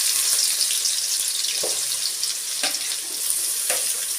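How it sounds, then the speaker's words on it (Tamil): Pounded onions frying in hot groundnut oil for a country-chicken rasam make a continuous close hiss, broken by a few sharp knocks or clicks of a utensil at intervals, with no voices. "எண்ணெய் காஞ்சிருச்சு, அதில் வெங்காயம் சேர்த்துக்கலாம்"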